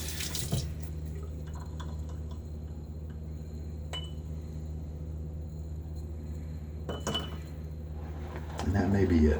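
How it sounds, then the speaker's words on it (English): Tap water runs and drips as a little more is added to firm shaving lather in a dense Shavemac two-band brush, with soft trickling, a couple of sharp clinks and a voice speaking quietly nearby. "I may want to add just a little more water."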